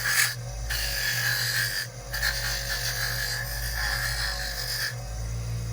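Fiber wheel on a motor smoothing a handmade metal ring, a steady low motor hum with a raspy rubbing hiss that breaks off briefly several times as the ring is lifted and pressed back on.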